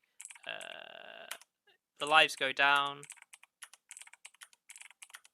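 Computer keyboard typing during a word-guessing game: a few game tones and a short spoken phrase come first, then a run of quick, evenly spaced key clicks.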